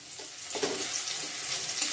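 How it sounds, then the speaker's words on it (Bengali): Onion tempering crackles in hot oil in a pan as the base for a river fish curry, a close, continuous frying sizzle with no speech. "এখানে পেঁয়াজ ফোড়ন দিয়ে দিচ্ছি,"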